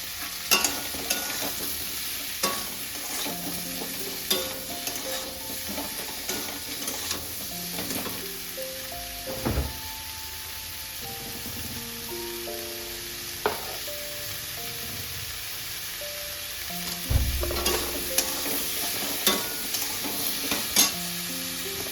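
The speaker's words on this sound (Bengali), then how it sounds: "একটু ভালো করে ভেজে নিয়ে তবে নুনটা দেবো।" Bottle gourd and shrimp fry in a pan with a steady sizzle while a spatula stirs and scrapes at irregular intervals, with occasional louder clanks; no one speaks.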